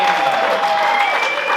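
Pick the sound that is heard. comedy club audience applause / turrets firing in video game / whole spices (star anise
comedy club audience applause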